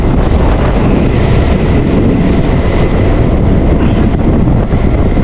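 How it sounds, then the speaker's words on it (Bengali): A Bangaon local train runs between Sealdah and Bangaon, its steady roar and wind rush filling the whole stretch at close range and high volume. "মাঝখান দিয়ে আমাদের ট্রেন ছুটে চলেছে।"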